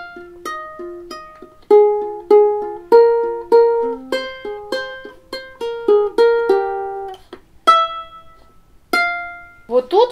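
A ukulele picks the Wednesday theme melody as single plucked notes and short phrases, clear and close, with a brief pause near the end and no voices.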